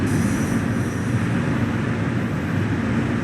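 Metro-North M3A electric commuter train on the Harlem Line near Grand Central, slowing to a stop at a station in a train simulator, giving a steady, close low rumble of rolling wheels and motors with a faint high whine early on.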